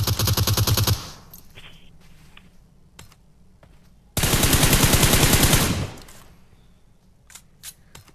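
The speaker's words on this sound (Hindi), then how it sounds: "यहाँ पे पट्टू को ख़त्म कर रहे हैं MK14 से." MK14 rifle gunfire in PUBG Mobile: two loud bursts of rapid automatic fire, one at the start and a longer one midway, separated by quieter game sounds and a few single shots.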